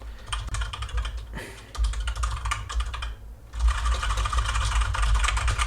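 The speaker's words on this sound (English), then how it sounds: "I do have my keyboard here. So I am gonna like type here," Fast typing on a computer keyboard close to a FiFine K688CT microphone produces dense rapid clacking in bursts, with a brief pause partway through.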